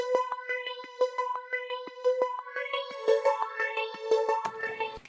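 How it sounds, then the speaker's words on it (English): A spacey synthesizer plays a run of short, bright pulsed notes that step and rise in pitch, ending in a brief noisy swell, with no voices. "The whole thing is littered with really spacey sounding synths like this one."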